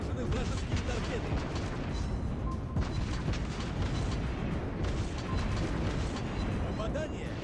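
Naval gunfire and shell hits in the World of Warships Blitz video game, with a dense run of booming blasts and impacts. A game voice announces under the sound.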